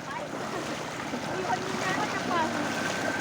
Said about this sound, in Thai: ตรงนู้นน้ำไหลแรงมากเลย